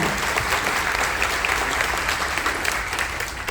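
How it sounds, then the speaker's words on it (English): An audience aboard the cruise ship Carnival Dream applauds, dense steady clapping from many hands with a faint murmur, tapering slightly toward the end. "Give them another round of applause."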